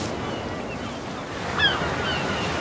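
Ocean waves wash steadily along a shoreline in the video game Ark Evolved, a continuous broad surf roar with light wind, no voices.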